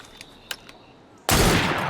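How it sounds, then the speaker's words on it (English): A sudden loud burst of gunfire erupts partway through a cutscene in Assassin's Creed Syndicate, following a quiet stretch with a few faint ticks, then sustaining as a dense, noisy blast to the end. "That sounded like a second gunshot."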